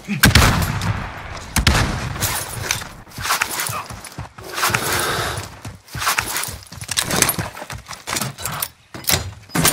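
Bursts of rapid gunfire from a team-based shooter video game, loud and close, coming in irregular volleys with short gaps between them and no voices over it.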